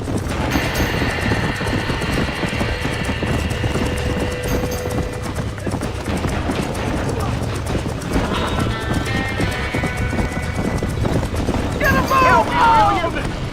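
Horses are trapped in a burning barn in the video game Red Dead Redemption. Hooves clatter and the horses whinny in distress under loud game noise, and people talk and shout throughout.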